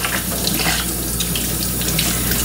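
Hot water runs steadily from a kitchen tap into a sink, a continuous close splashing rush with no talk.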